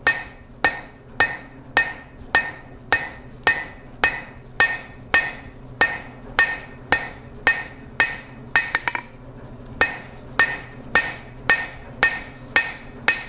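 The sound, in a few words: blacksmith hammer blows forging a point on an S hook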